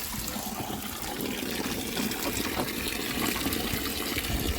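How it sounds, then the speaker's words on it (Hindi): Running water rinses freshly dug potatoes by hand outdoors in a home garden. The splashing and trickling goes on steadily for the whole stretch at close range, with no talk over it. "हाथ पर पहले हम आलू को धोएंगे, फिर हम हाथ धोएंगे"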